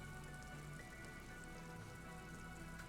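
Steady rain ambience from the video game Disco Elysium, a continuous even patter of drops on surfaces, quiet and constant throughout with no voices.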